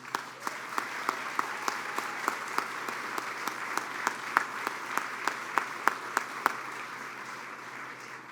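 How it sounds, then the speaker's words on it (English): A university audience gives a modest round of applause for a Chair's Award honoree. The clapping is soft and somewhat distant, with a few sharper individual claps standing out in a fairly regular pattern. "And that deserves a round of applause."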